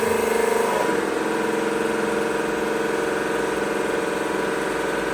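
A 100-ton oil press runs steadily as its hydraulic rod rises at second speed, a continuous motor-like hum and drone with no pauses, fairly loud throughout.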